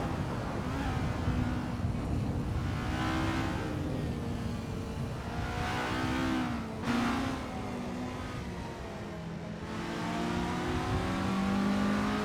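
Race cars in Assetto Corsa at the Las Vegas 2023 track keep up a steady engine drone with rising and falling revs as gears shift, loud and continuous with no voices over it.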